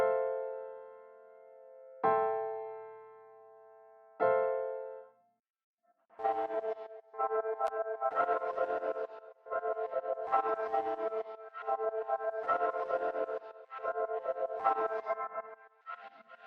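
Dry piano with its effect plugins bypassed: three clean sustained notes ring and fade one after another, then the same part switches to a choppy, pulsing processed texture, all played alone.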